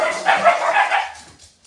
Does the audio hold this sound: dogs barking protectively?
yes